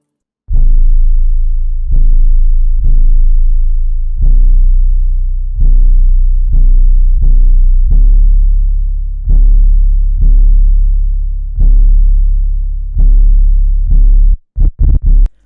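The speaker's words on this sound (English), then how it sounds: "So this is what the 808 sounds like." A deep electronic 808 bass drum booms in an uneven pattern, each hit sustaining a long low tone before the next, with no other instruments.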